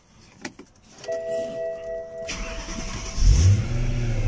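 BMW M3 ignition switched on with a whirring electric tone and key clicks, then the cold engine cranks and fires into a loud, rising idle close by.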